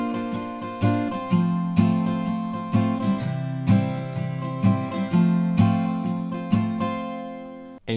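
An acoustic guitar strummed in a down-down-up pattern, playing the intro chords of a song. Each chord rings clearly in a steady rhythm of bright, close strums with no talking.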